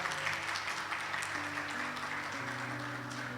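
A church congregation claps steadily for a few seconds, dense broadband applause with sustained musical tones ringing underneath.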